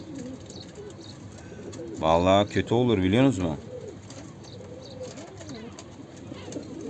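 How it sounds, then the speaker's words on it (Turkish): Pigeons coo softly in the background while a person speaks nearby for a couple of seconds. "Dışarıda kuşlarımız var arkadaşlar."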